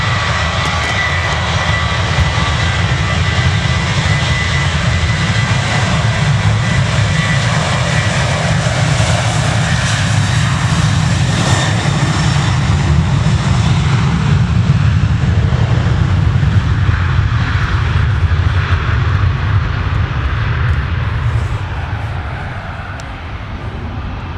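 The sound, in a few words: Jet2 airliner departing Manchester Airport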